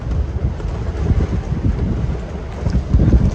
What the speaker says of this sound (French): 30-39 nœuds de vent.